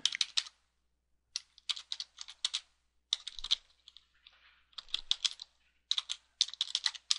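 Keys on a computer keyboard clack close up in quick bursts separated by short pauses, and no one talks.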